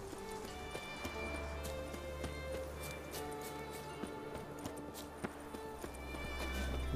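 Horse hooves clip-clopping at a steady riding rhythm in The Witcher 3, moderately close over a constant low ambient game soundtrack hum, with occasional small clatters and no talk.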